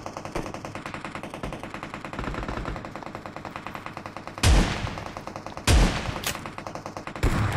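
Rapid automatic SCAR-L rifle fire in a PUBG-style battle royale game rattles in steady bursts, broken by a few louder, sharper shots.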